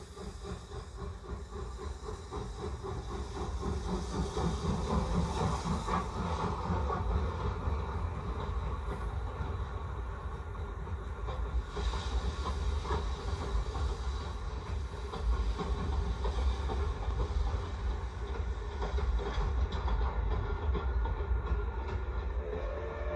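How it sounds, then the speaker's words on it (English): Japanese steam locomotive played back from reel-to-reel tape: a steady, loud rumble of a train with hiss and rhythmic rail clatter running throughout, no speech. "An earth-shaking dynamic sound. That's the sound of a Japanese locomotive."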